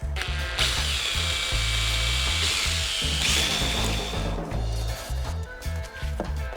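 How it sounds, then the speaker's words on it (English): A power drill bores a hole through garage siding with a loud, continuous grinding whir and a pulsing, ratcheting rhythm. The drill bogs down and speeds up as it bites into the material. "he drills a hole for where the wire will go"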